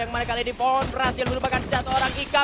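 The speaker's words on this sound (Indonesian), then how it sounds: "kali ini suara tembakan sudah mulai keluar" Gunfire in the Free Fire battle royale game on the Bermuda map during a competitive esports final, with bursts of shots under continuous excited commentator talk.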